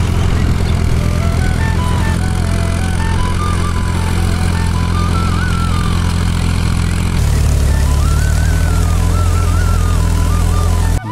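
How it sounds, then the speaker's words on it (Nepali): A tractor ploughs a wet paddy field being readied for planting, its engine droning loud and steady with a low rumble and wavering pitch that rises and falls as it works, with no talk. "यो चाहिँ खेत रोप्नुको लागि तयार गर्दै गरेको ट्र्याक्टरले जोत्दै"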